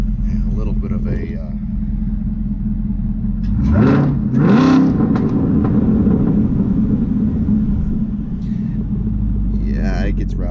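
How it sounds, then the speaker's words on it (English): A 2017 Camaro ZL1 fitted with a Borla ATAC exhaust idles with a deep rumble, then revs sharply once or twice near the middle before settling back, loud and close, with someone speaking over it. "it gets rowdy with that exhaust. This does have the Borla ATAC exhaust on it."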